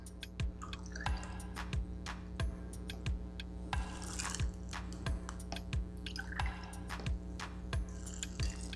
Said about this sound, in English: Now we're gonna do 4 ounces of this Baja Blast.